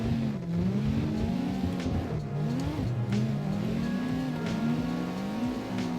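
Car drifting in CarX Drift Racing Online, a Wellington S20 on a drift setup, with a continuous engine drone whose pitch rises and falls as the throttle works, plus tire hiss underneath, steady and loud.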